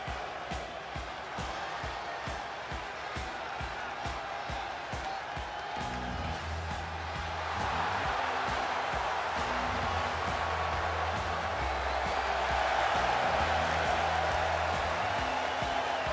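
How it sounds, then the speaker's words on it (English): A large wrestling arena crowd in a WWE 2K video game cheers and whoops steadily, with rhythmic clapping and stomping early on and the roar swelling louder partway through, mixed with game music underneath. "I want you to give a warm welcome and applause"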